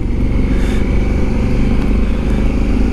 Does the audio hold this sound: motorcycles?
yes